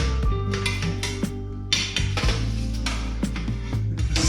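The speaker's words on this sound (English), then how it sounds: "Make sure you're stirring it anti-clockwise, Simon." A metal spoon scrapes and clinks around a large pot of home-brew beer with hops, making repeated close metallic knocks and rings over a steady low hum.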